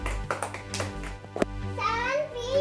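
Children clap in a scattered burst of a few uneven sharp claps at close range, mixed with someone talking and other voices around them.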